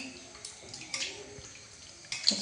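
Water splashes and runs as potatoes are washed in a home kitchen: faint, intermittent sloshing, growing louder at the very end.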